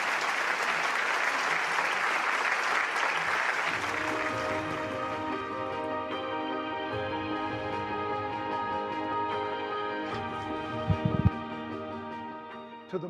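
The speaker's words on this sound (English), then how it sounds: "Let us welcome Bishop Noel Jones with a warm round of applause." Large rally audience in Korea applauding loudly and steadily, the dense clapping fading after a few seconds as sustained music with organ-like tones rises and carries on beneath it.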